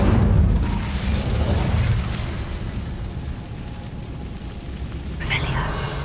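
An Incendio fire spell cast in the video game Hogwarts Legacy, a loud whooshing burst with a rumbling roar that slowly fades, followed by a sharper flare near the end, with no speech.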